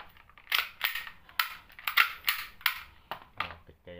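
An airsoft gun fires in quick irregular bursts of sharp snapping shots, close and fairly loud, with brief pauses between clusters and no one speaking.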